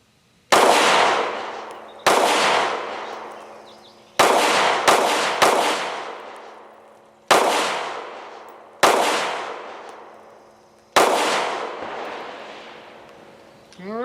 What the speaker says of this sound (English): I'm going to run one more mag through this gun